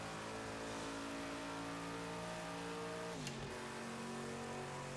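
A Porsche 962 race car engine in a simulated 1989 Le Mans race drones loud and steady with layered tonal whine, then drops pitch sharply as another car is heard ahead, all without talk.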